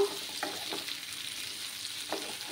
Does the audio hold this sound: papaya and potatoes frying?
yes